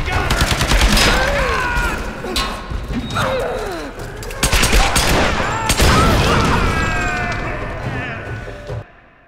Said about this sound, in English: I died to an explosion.